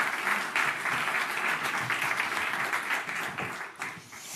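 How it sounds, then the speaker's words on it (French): Audience applause at an evening medtech business event, a dense, sustained round of clapping from a seated crowd that holds steady and then tapers slightly toward the end. "On vous applaudit, François Hébert et Frédéric Gérard."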